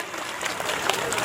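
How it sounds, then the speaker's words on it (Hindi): Brief, fairly faint burst of audience clapping at a school annual function, a short scattered patter of hands heard from a distance. "अब आप अपने में ही नहीं तालियां बजा पा रहे, प्लीज थोड़ी तेजी से बजाइए।"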